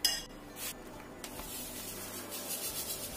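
Continuous scraping and rubbing of a utensil against a bowl, close and steady, with a few light clinks near the start.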